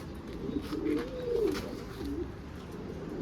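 Pigeons coo softly in a coop, a few close, low rolling coos rising and falling over a steady background hiss.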